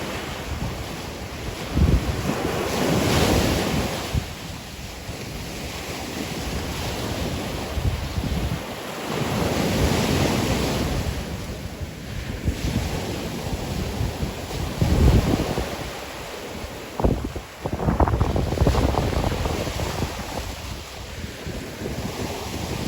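Waves roll onto Pass-A-Grille Beach in a steady wash of surf that swells and recedes in irregular surges, mixed with gusty wind buffeting the microphone, with no talking.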